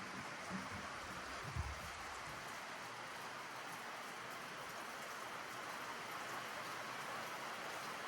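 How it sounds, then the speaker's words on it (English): Steady rain falls over a forest, a dense continuous patter and hiss, moderately faint and even throughout with no talking. "Can you hear the rain?"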